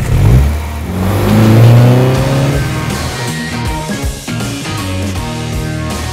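A John Cooper Works sports car engine revs hard and loud, rising in pitch, then drops into a burbling exhaust with quick blips and crackles.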